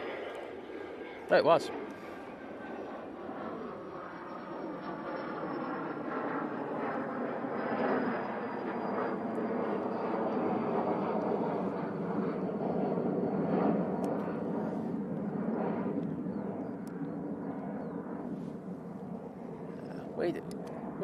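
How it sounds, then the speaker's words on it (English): A Learjet departs Manchester Airport, a sustained jet roar that rises and then slowly fades. A brief loud knock comes early, and a voice speaks briefly over the engine noise. "And there goes the Learjet."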